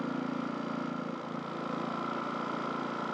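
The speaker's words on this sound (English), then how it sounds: "Start up the generator. We're going to let it run for about 10 minutes." A Champion 4500 watt generator engine runs steadily, a constant loud drone with a mid-frequency hum that holds even throughout, with no speech.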